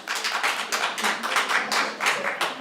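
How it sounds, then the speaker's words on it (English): A live audience gives a round of applause: many hands clap together in a full, moderately loud burst that swells and dips in waves but never stops, with no voices on top. "Round of applause."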